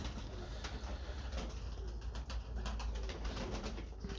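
Pigeons cooing in a pigeon loft, soft low coos rising over a steady, noisy background hum.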